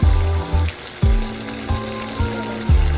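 Tomato paste sizzles in a pan after water is added, letting out repeated bubbling, hissing bursts that swell and fade in a loose rhythm, close and fairly loud, with no talking.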